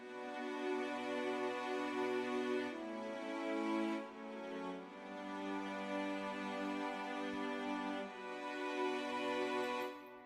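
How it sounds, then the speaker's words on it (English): Sustained orchestral strings play lush held chords that shift harmony every few seconds, full and steady with no voices. "orchestral strings. They sound like this."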